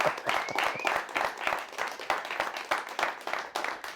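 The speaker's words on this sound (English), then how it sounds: "A round of applause," A small studio audience at a live TV talk show claps in a quiet round of applause. Individual hand claps stand out distinctly in a loose, uneven rhythm.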